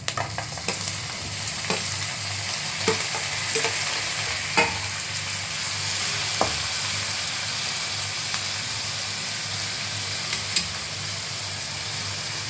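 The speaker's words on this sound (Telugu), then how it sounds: "ఉల్లిపాయ అయితే వేగిపోయింది. ఇప్పుడు టమాటాలు వేసేసుకుందాం." Onions with curry leaves and tomatoes fry steadily in a pan for a South Indian tomato rice, a continuous sizzle with a low hum beneath and scattered clicks of a spoon stirring, alone without talk.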